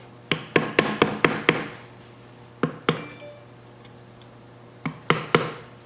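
Sharp metallic hammer taps bending the top washers on an A-type overdrive unit being overhauled, a quick run of six strikes followed by a few spaced single blows, close and clear in a quiet workshop.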